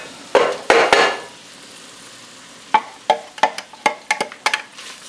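Onions and garlic sizzle in a frying pan while a utensil clanks and scrapes against the pan in a series of sharp knocks, close and with no talking.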